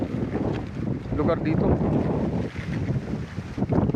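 Strong wind gusts roar across the microphone on a hillside farm near the sea, a loud continuous buffeting that swells and dips, with a person talking briefly over it.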